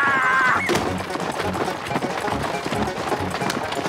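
Galloping hooves of unhitched stagecoach horses clatter in a quick, uneven rhythm after a brief high tone at the start, fairly close and steady throughout, in a Garfield video game.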